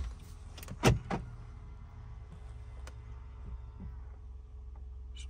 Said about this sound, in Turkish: Ben kapıyı açmam lazım.